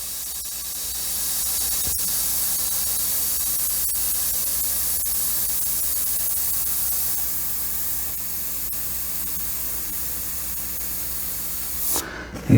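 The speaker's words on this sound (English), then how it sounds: "I usually like to try to spray around 20 to 30 psi" An Iwata HP-C Plus airbrush spraying paint at about 30 psi makes a steady, close, airy hiss that runs unbroken for around twelve seconds, with faint tapping clicks as dots are laid down, and then stops abruptly.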